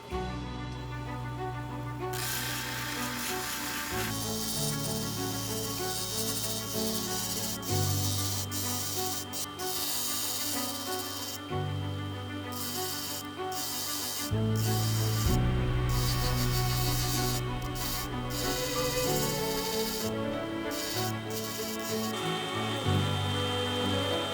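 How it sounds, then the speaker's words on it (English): Cabking machine grinding a landscaping rock on a 280 grit resin wheel, a steady faint rubbing scrape over a constant motor drone, with shifting pressure and repeated pauses in contact. "after completing the grinding on the 280 grit res wheel"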